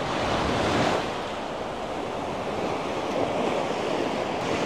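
Sea waves surge and wash onto the shore at Point Pedro in northern Sri Lanka, a steady loud roar of surf with a slightly stronger swell near the start and wind buffeting the microphone, with no voices.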